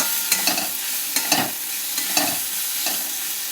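A spice mix with turmeric and Kashmiri chili powder being sautéed in a pan: a loud frying sizzle broken by rhythmic scraping stirs about every half second, close up and without speech.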